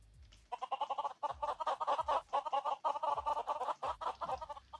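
Chickens from a chicken spawner in a school simulator game, a busy chorus of repeated clucks and squawks layered closely together, steady and moderately loud with no talk.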